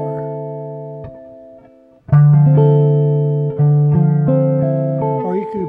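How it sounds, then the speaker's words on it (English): An acoustic guitar plays a fingerpicked pattern of sustained plucked notes, a quieter passage first, then a louder run of notes ringing over each other, close and alone. "And then we're going to play this picking pattern."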